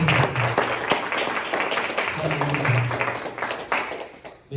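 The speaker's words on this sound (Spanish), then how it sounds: "Dale un aplauso fuerte." Applause from a church congregation, dense broadband clapping throughout, with a held organ or keyboard chord and faint voices mixed underneath.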